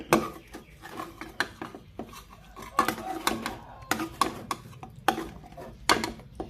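Steamed chicken is being scooped from a pot onto a plate, with a series of close, uneven metallic clinks and scrapes of a utensil against pot and dish, repeated roughly every half second.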